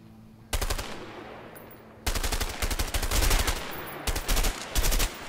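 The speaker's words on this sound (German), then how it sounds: "Man kann jetzt endlich richtig zielen und schießen." Gunfire in the video game A Way Out: loud bursts of rapid automatic fire, with three or four rattling volleys separated by short quiet gaps over low background noise.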